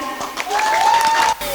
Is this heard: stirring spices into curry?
no